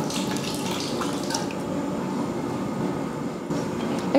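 Juice squeezed from seven lemons pours into a huge pot of chicken biryani (7 kg of chicken) cooked for sixty people, a steady close splashing and trickling of liquid over a broad, continuous wash of noise.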